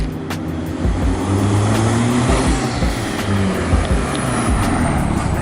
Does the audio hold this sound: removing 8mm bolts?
no